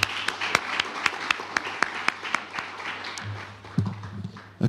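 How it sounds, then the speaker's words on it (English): An audience at a school sports awards ceremony claps in a steady, rhythmic round of applause, with distinct sharp claps close by. A brief murmur of voices follows near the end. "Please, one more round of applause for today."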